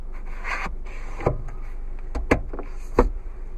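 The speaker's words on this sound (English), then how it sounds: "Another nice feature, you have sliding sun visors" Sliding sun visor extension in a 2015 Jeep Renegade Latitude, soft plastic rubbing slides followed by a few sharp clicks and taps as it is pulled out and pushed back, close and quiet.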